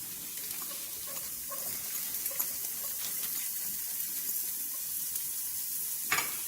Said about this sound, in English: I'm going to add that to our pan to cook the onions down.